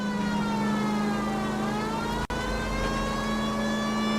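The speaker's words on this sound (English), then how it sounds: "Got that siren on, man." A police car siren wails steadily in the L.A. Noire video game, loud and continuous throughout, with rising and falling tones over a low engine drone and a brief dropout midway.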